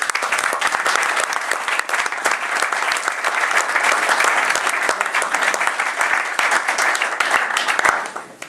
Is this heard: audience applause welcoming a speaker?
yes